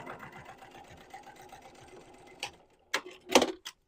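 A sewing machine stitches down the centre crease of a sling bag, a quiet fast run of needle clatter that stops, followed by a few sharp clicks and taps.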